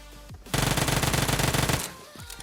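Vector submachine gun in PUBG Mobile on the Livik map, loosing one loud, rapid burst of tightly spaced shots that lasts just over a second, with quieter game ambience before and after.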